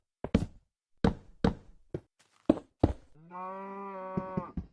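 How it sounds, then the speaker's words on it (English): Cows moo in the Minecraft video game, a long harmonic low moo rising out of a run of sharp knocking taps, clear and close with no talk. "The cows are cowing again."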